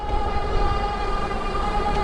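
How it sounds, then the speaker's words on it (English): An electric cargo bike's motor cruising at about 17 to 18 mph gives off a steady, close, sustained tonal whine with a constant road rumble underneath. "So we'll let you listen to the motor real quick"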